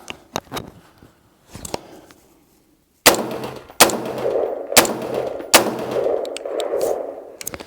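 A WS MCR AR180B-style rifle firing rounds from a GI magazine: a few faint clicks and handling noises, then four loud, sharp shots at roughly one-second intervals, each with a short echoing tail, with no talk.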